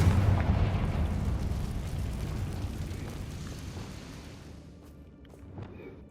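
Confringo spell explosion in Hogwarts Legacy, a deep booming blast that starts loud and rumbles away, fading over several seconds with a small crackle near the end.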